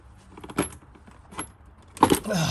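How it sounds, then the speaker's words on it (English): A Honda Civic Type R airbox is tugged free of its rubber mount: a few brief, close plastic knocks, then a louder rattling clunk as it pops loose near the end. "you just got to tug up hard enough, and then it'll just pop the airbox free from its holder"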